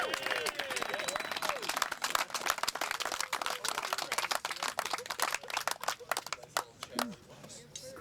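A disc golf gallery at the AM Nationals applauds a drive on the uphill 13th hole, dense sustained clapping from a crowd outdoors, with a voice talking over it.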